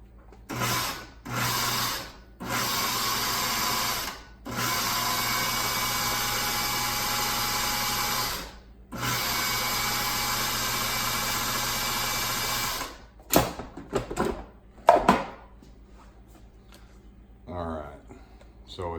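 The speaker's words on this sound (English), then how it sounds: "About half of the masa in the KitchenAid food processor, so we're going to go ahead and pulse this a little bit" KitchenAid food processor pulsing nixtamalized corn masa made with wood ash, a series of loud close motor bursts of varying length separated by short gaps, followed by scraping and handling clatter.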